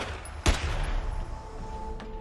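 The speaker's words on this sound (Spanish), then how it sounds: "dos disparos." Two gunshots as a crime-drama sound effect: one sharp, loud crack early on, then a second, fainter report about a second and a half later, over a low background hum.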